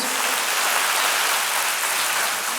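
A church congregation applauding, a dense, steady wash of many hands clapping at once, loud and unbroken for the whole stretch with no voices over it.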